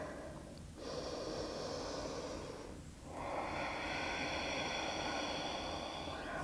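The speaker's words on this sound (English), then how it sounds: "Deep breaths here." Slow, deep yoga breaths close to the mic, a long steady airy exhale broken by a brief pause, then another sustained breath, with no talking.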